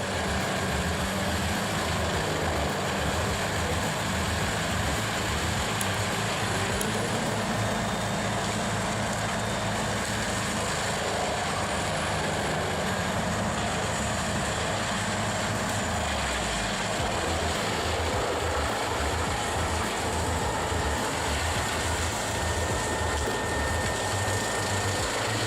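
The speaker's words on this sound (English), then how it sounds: "the leading wood chipper, is revolutionizing poplar chipping in the Netherlands" Wood chipper powered by a 765 hp Cat 18 engine chipping poplar wood in the Netherlands, a steady loud engine roar with dense grinding noise running throughout, no talk.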